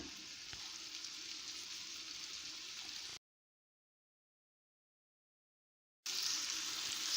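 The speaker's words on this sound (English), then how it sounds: "So now I'll be adding Maggi inside the pot, and also add little pinch of salt, and I'll keep stirring it." Party fried rice with Maggi and salt frying in a pot, a steady hiss of sizzling with faint stirring, broken by a few seconds of silence before the sizzle returns louder.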